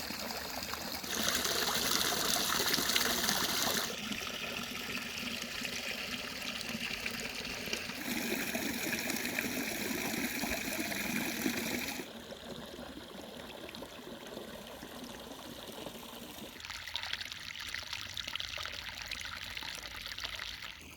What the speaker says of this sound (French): on va profiter avec le son de l'eau. Là, j'adore. Petite cascade comme ça.